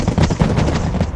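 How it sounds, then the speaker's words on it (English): Salamander machine gun fire in a video game, a dense rattling burst of rapid shots, loud and close, lasting about a second. "these guys can take them out because of the size of that machine gun"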